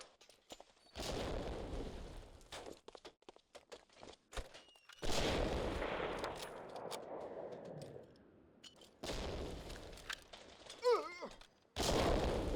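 Sniper rifle shots and explosions from a Medal of Honor Allied Assault online match sound as a few sharp, booming reports with long ringing decays, separated by near-silent gaps and quick footsteps.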